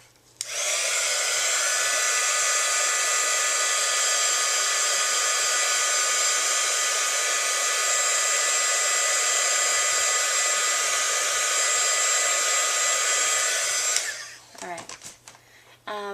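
A heat tool drying Distress marker ink gives a steady, high-pitched whir for about fourteen seconds, then cuts off, followed by brief handling noises.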